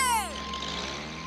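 Cartoon helicopter from the 1986 animated Robotan series, Hindi dub: a short descending whistle opens into a steady, loud whirring rotor drone that continues to the end.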